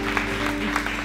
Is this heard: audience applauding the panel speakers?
yes